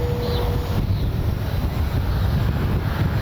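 Steady wind buffets the microphone at an RC airfield, a continuous low rumbling roar that fills the clip without letup.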